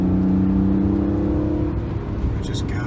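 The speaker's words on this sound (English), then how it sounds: "The engine sounds great." A 2002 BMW 330Ci's engine hums steadily under acceleration from inside the cabin, a smooth, close drone with a sustained whir that eases off slightly toward the end.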